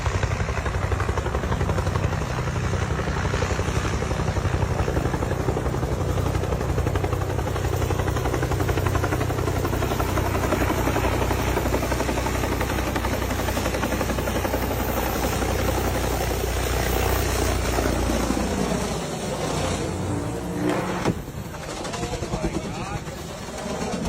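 A helicopter on approach to land, its loud, steady rotor and engine drone continuous and close, with a shift in pitch near the end.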